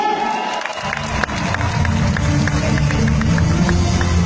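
Audience applause and cheering at an AIM Global success-story event, starting after a brief quiet moment and then swelling into steady, loud clapping mixed with crowd shouts that fill the rest of the clip.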